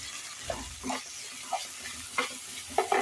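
Tempering spices with turmeric powder sizzle and crackle in hot oil in a pan, with a steady fry broken by a few soft stirring scrapes close by, no voices.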